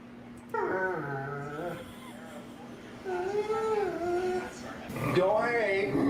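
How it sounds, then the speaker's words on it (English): Jealous dogs whimper and yip close by in a home, with high, wavering whines rising and falling in several drawn-out bursts over a faint steady hum. "These are jealous dogs."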